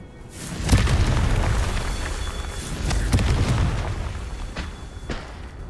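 A Confringo blasting spell explodes in Hogwarts Legacy, giving loud booming blasts with rumbling low-end bursts that swell and fade, repeating a few times.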